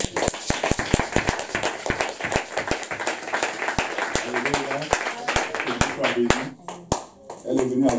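A church congregation claps in a fast, steady rhythm during worship, loud and close, with voices singing or calling out over the clapping toward the end.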